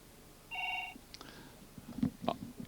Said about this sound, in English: Oh, now the phone rings.